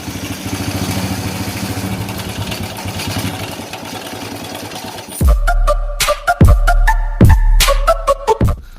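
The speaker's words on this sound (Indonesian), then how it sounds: "itu suara mesinnya sangat berisik sekali" A Honda Supra Fit motorcycle engine with a rough, noisy running fault clatters and idles, with a steady mechanical rattle at first. Then come loud, close revving bursts and sharp knocking pulses.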